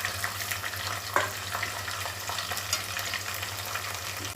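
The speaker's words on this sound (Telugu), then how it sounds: "ఉల్లిపాయ ముక్కలు వేసి తిప్పుకుంటాను" Onion pieces fry in hot oil for veg biryani, a dense crackling sizzle with stirring scrapes, close up over a constant low electrical hum, with no voices.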